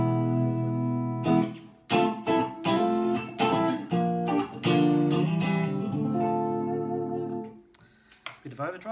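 Clean electric guitar played through a Fender Deluxe amp with no drive, a run of plucked notes and chords ringing out clearly, ending with some brief talk.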